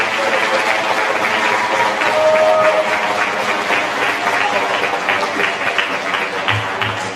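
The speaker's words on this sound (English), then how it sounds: "Let's give him one more round of applause." A memorial museum audience applauds a justice after his talk to students, a steady, full wash of clapping that holds at an even level throughout.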